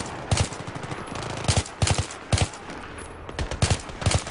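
Battlefield 3 gunfire: short bursts of automatic fire repeat at fairly regular intervals at moderate distance, each a quick cluster of sharp cracks over a low hiss.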